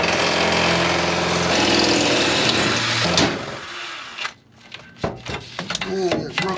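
A power drill grinding into the steel floor of a 1993 Ford F-350 cab, loud and continuous for about three seconds before cutting off, followed by scattered clanks and handling noises.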